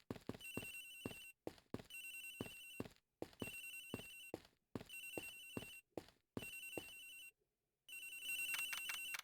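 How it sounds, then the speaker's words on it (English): A telephone rings repeatedly in the Ace Attorney Investigations: Miles Edgeworth video game, with bursts of electronic trilling broken by short pauses in a steady loop and no voices over it. "Agent Hicks' phone! It's ringing from somewhere, sir!"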